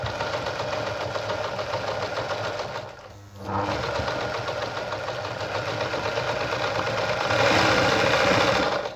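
A Veritas Zick-zack sewing machine runs a straight stitch at its longest stitch length, a steady close mechanical whirr with a brief pause near three seconds before resuming and growing slightly louder, with a few faint spoken words.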